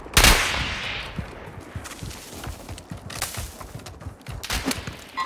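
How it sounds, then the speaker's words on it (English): Call of Duty Warzone gunfire rings out in sharp bursts, opening with a loud close shot followed by scattered rattling rounds, thuds and quick volleys at varying distances. "Taking effective fire!"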